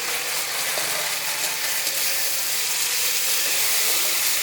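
Steady, loud sizzling and hissing of tomatoes and green chillies added to fried onions in a hot pan, continuous and close, with no voices.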